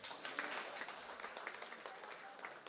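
A congregation at a Sunday church service claps together, a faint, distant patter of scattered hands that carries on steadily for a few seconds.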